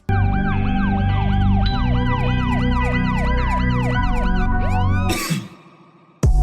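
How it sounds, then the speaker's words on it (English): Police sirens drone loudly and continuously for about five seconds in a rap track, overlapping in repeating rising and falling sweeps, then cut off abruptly into a brief crash. "the droning sound of police sirens fills the air"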